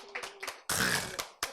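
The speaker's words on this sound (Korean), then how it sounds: "박수 쳐주세요." Audience applause bursts out at a Korean church sermon, a loud wash of clapping hands following a few scattered claps and sharp taps, then briefly tailing off before another clap.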